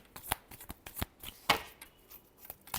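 Tarot cards are shuffled in a string of sharp, papery riffles and taps, irregular and close, with no voice heard.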